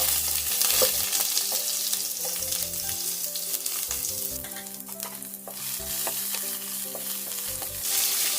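Sliced onion with mustard seeds and cumin sizzles and fries in a pan for an ivy gourd stir-fry, loud steady crackle with repeated scraping stirs of a spoon against the pan, close up.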